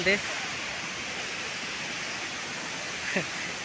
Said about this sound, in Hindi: ये बहुत सुंदर जगह को देखो वाटरफॉल